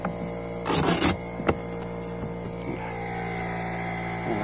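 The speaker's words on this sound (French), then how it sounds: "gonfler les pneus avec ce compresseur portable, c'est vraiment l'idéal" A portable tire-inflating air compressor runs with a steady electric motor hum, joined by a few brief clunks and rattles near the start.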